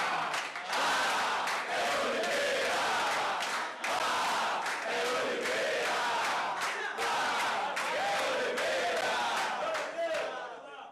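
Santos football supporters massed at Vila Belmiro around the Paulistão final, chanting and roaring in loud, sustained waves with rhythmic clapping pulses, filling the whole stretch.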